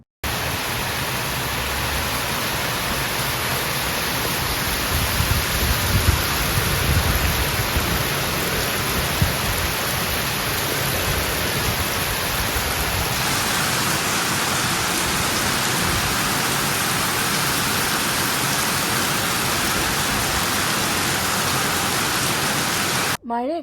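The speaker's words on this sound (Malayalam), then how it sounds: "ദേ അടിപൊളി മഴയുടെ സൗണ്ട്" A heavy rain shower roars steadily from a house's sit-out, an unbroken dense hiss that stays loud and even throughout with no voices.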